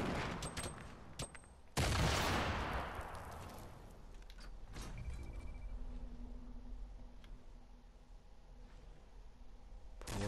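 Grenades explode in the Fortnite battle royale video game: a loud, near broadband blast lands about two seconds in and decays into rumble, with smaller pops before it and scattered distant gunfire afterward.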